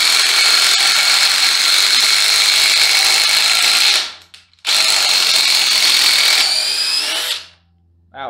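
A Dewalt cordless drill on a fully charged 5 amp hour battery, set to high, drives screws with a loud, steady high whine in two long runs split by a brief pause, then winds down to quiet.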